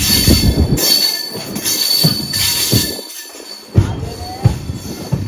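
The Vasco da Gama–Velankanni Express rolls into Velankanni station with rhythmic clacking wheels and a brief metallic squeal, loud and close, rumbling steadily as it arrives.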